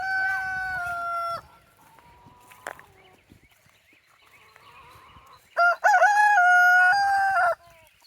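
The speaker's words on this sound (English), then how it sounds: "I am taking a walk over to the chickens right now with the girls" Chickens around a backyard coop as a rooster crows loudly and close by twice, the first call long and drawn out and the second after a stretch of soft clucking and scattered hen noises.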